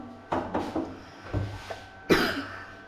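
Several short, sharp coughs in quick bursts, close by, followed by one louder harsh cough near the end.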